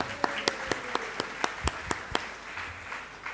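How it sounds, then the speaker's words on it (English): Audience at a teachers' college research day claps for a speaker, a modest round of separate, sharp claps at a steady rhythm over a low room murmur, thinning out toward the end. "Give him a round of applause, please."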